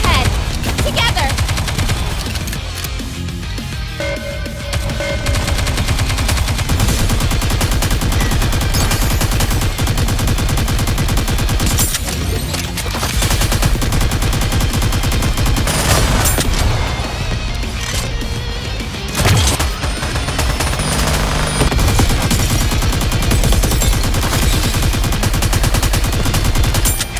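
Sustained gunfire and bursts of rapid shots fill a NIKKE (Goddess of Victory) battle in the Bunny x 777 event on hard mode, loud and dense throughout, layered with game music and effects, with voiced character lines over the shooting.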